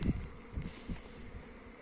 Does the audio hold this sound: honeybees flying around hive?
yes